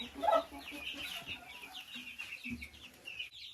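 Hens cluck softly in a backyard dacha coop, a few short calls overlapping at close range over faint background rustle.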